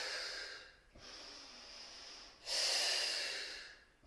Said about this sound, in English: Now you're breathing